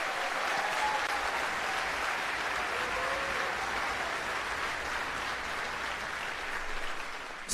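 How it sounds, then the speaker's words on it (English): An audience in a school orchestra concert hall gives sustained applause, a dense, even clatter of many hands clapping for several seconds before tapering off slightly at the end. "Let's give their teachers a huge round of applause"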